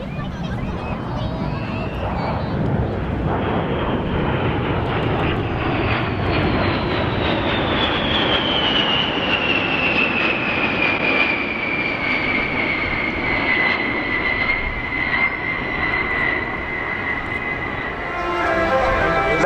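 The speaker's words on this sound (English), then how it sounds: "Made by the Boeing Military Airplane Company, the power plant driving this through the air is 8 Pratt & Whitney engines." A Boeing B-52 bomber with eight Pratt & Whitney engines passes at an air show in Bournemouth, a loud continuous jet roar with a slowly falling whine as it flies by, while an announcer talks over it.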